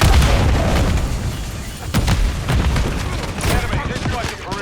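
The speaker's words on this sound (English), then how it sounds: "Throwing grenade!" A semtex grenade explodes in a military shooter video game amid continuous gunfire, heavy booms and crackling shots in dense, loud layers throughout.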